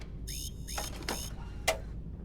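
An alarm sounds in a starship vehicle bay in the video game Starfield, a few quiet repeated electronic tones with short pauses between them and a brief sharp click near the end.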